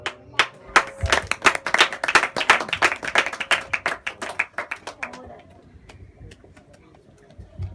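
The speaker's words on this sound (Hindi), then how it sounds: "मैं चाहता हूँ मेरे यीशु के लिए जोरदार ताली हो जाए" Church congregation at a Hindi-language Christian service clapping loudly for Jesus, a fast rhythmic burst of many hands for about five seconds before fading into quiet, with a voice speaking faintly.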